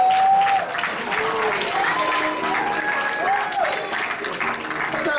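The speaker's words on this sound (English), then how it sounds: "Let's give him another round of applause, Devin Robinson." Audience applause after a talk at a business networking conference, a continuous clapping wash with some whoops and a voice over it, slowly tapering.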